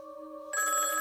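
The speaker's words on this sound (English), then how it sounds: "A seemingly ordinary payphone that's been ringing for 27 years." A payphone's electronic bell rings, a steady tone that shifts to a brighter, louder trilling ring halfway through, close and alone.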